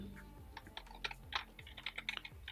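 A computer keyboard typed on at a steady, quick rhythm of light close clicks, faint and alone, with a low background hum.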